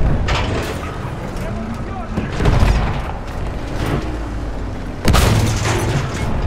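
Artillery fire in Battlefield 1 gameplay: heavy booms land in bursts over rumbling battlefield noise, with in-game voices calling out in German.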